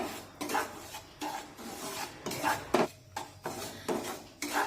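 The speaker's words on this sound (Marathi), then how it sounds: "सतत आपल्याला या रव्याला उलटण्याने हलवून घेत राहायचं आहे" A spatula scrapes and pushes fine semolina (rava) around a hot pan while it roasts, soft repeated rasping strokes in an uneven rhythm, close and fairly quiet, with no one speaking.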